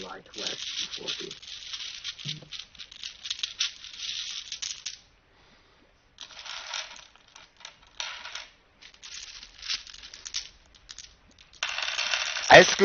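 Plastic dice clattering and scraping as handfuls are scooped out of a dice bag at a tabletop Dungeons & Dragons session, bursts of rattling broken by short pauses, close and fairly loud.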